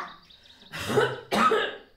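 A child coughs twice in quick succession, close and loud, without a handkerchief, as a puppet character in a handwashing film.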